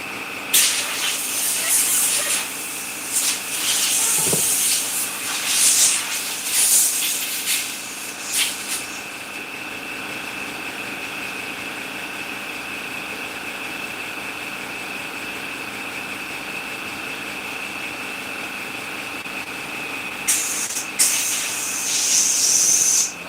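An airbrush sprays paint during mask making. Bursts of sharp hissing come at the start and again near the end, over a steady background hum.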